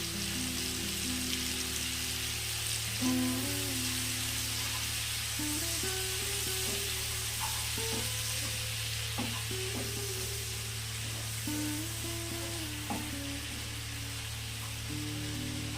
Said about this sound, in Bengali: চিংড়িগুলোকে খুব ভালো করে ভাজতে হবে